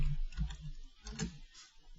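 Brisk typing on a computer keyboard, a quick run of soft close key taps and clicks with short pauses between bursts.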